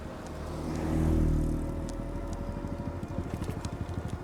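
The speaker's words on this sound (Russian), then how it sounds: "Опять мотоцикл." A motorcycle passes on a street in Luhansk's Kamenobrodsky district, heard from a moving electric bike: a low engine hum swells, peaks, then fades into steady wind rumble.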